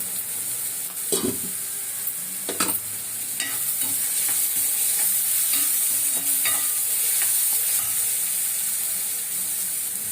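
Liver and onions for liver chukka frying on a stove give a steady close sizzle, with sharp scraping stirs of a spoon against the pan scattered throughout and no talk.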